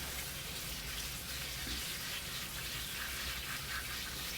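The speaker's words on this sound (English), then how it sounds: "I'm going to rinse it one more time," Tap water running steadily over chopped leeks being rinsed at a kitchen sink, a continuous close splashing hiss with no talk.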